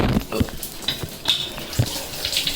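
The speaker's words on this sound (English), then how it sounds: "you turn off the shower" A home shower runs steadily with a close, hissing spray of water. Soft splashes and bumps break into it now and then, and no one speaks.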